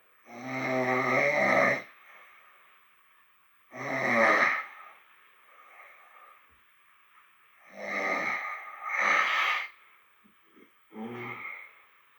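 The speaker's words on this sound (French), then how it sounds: "Je ronfle fort." A person snoring loudly in sleep at night, around 2:48 a.m.: four or five long, rasping, nasal snores come at roughly regular intervals with near-silent breathing in between, close and prominent.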